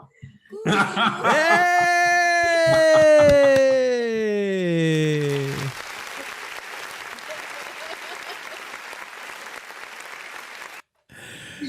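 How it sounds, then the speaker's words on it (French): Studio applause on a live show, a steady wash of many clapping hands lasting several seconds, preceded by a loud, drawn-out laughing vocal sound and cutting off briefly near the end. "Très réel les applaudissements."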